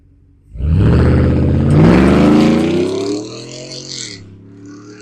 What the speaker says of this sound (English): Wow, you can hear that supercharger spinning up.